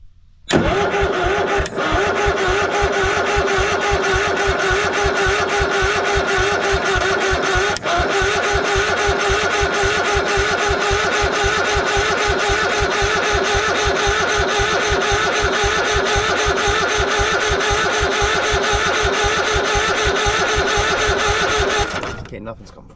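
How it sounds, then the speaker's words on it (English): An old, abandoned Craftsman lawn mower engine cranks over steadily for about twenty seconds, a fast, even mechanical chug that stays loud and close before stopping abruptly. "I guess we'll just keep cranking it over, see if we can get that pump to circulate."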